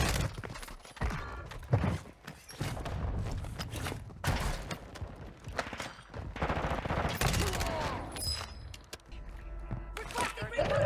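Rapid SMG bursts from an ISO 45 in a Warzone match, sharp repeated volleys and cracks clustered through the stretch, with a voice talking faintly beneath the shooting.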